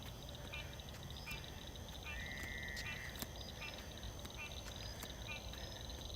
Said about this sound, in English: So we have our frogs down there.